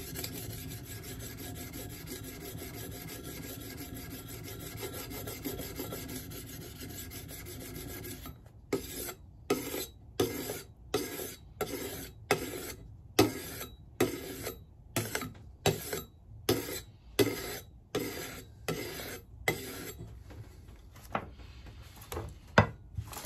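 An axe edge being honed on a whetstone, a Rinaldi tomahawk, working toward a shaving-sharp finish: steady close rubbing and rasping at first, then a run of distinct regular strokes, each a short scraping pass with brief gaps between.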